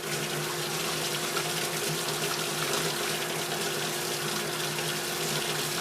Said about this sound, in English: Seems like it's pumping water to me